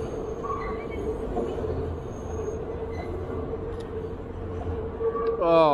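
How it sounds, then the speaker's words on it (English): Subway train rounding a curve on elevated tracks on a New York street, a steady rumble of rolling cars under city noise with a rising wheel squeal at the end. "I was about to get a shot of this train coming around"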